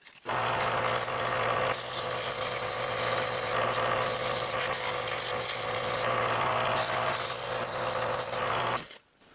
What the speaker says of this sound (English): now I'm going to sand it before going further